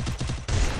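A quick burst of rapid video game gunfire, loud and close, several sharp shots in succession over less than a second.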